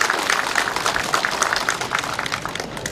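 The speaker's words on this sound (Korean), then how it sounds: "여러분 큰 박수 한번 부탁드리겠습니다" Applause from an audience at a farm cooperative's machinery rental office opening ceremony, dense crackling claps sustained evenly throughout without speech.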